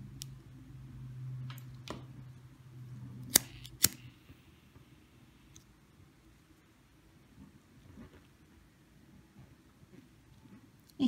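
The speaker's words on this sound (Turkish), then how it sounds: "Burada şu fazlalık ipimi hemen kesiyorum." Scissors snip excess bracelet thread, with two sharp, close cuts close together in quiet surroundings, followed by a few softer clicks and a faint low hum.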